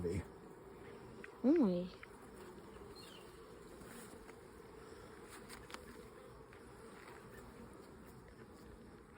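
Italian honeybees buzz around an open hive during an inspection, a low, continuous hum close by, with a brief spoken word early on.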